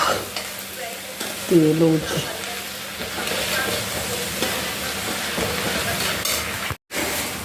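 Onions frying with turmeric in a pan, stirred with a utensil, giving a steady close sizzle with a few scraping clanks early on and a brief dropout near the end.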